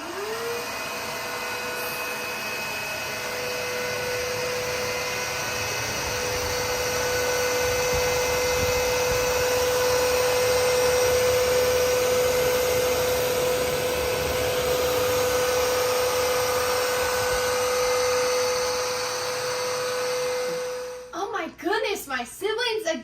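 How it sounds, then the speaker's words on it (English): An Aspiron CA-022 cordless wet-dry vacuum and mop combo runs its self-cleaning cycle, giving a loud, steady motor whine with a sustained tone that holds for about twenty seconds before cutting off, followed by brief talking. "so that my vacuum can start its self-cleaning"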